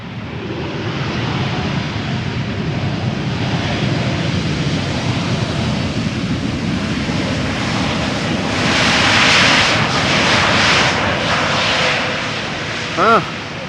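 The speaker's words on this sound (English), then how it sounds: "KLM Malta, arriving from Malta, A320 Neo" A KLM Airbus A320neo arriving from Malta at Amsterdam Schiphol roars in with a broad, steady jet rumble that peaks around the middle and fades, while a voice talks intermittently.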